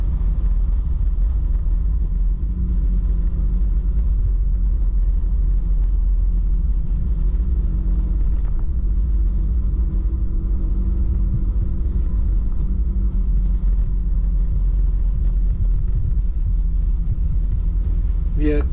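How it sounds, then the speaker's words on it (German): A Yamaha X-Max 300 scooter ridden along roads through the Hesse countryside, producing a continuous low engine and wind rumble that holds steady for the whole stretch. "Ich fahre ja mit meiner Yamaha X-Max 300, die mir sehr viel Freude macht."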